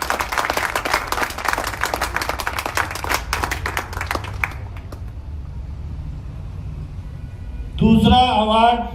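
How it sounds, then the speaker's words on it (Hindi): Loud clapping and applause from a gathered crowd at an award ceremony of an anti-drug pledge event in Jai Vihar, Najafgarh, steady and dense for several seconds before fading, then a voice speaking over a microphone near the end. "जोरदार तालियां होनी चाहिए"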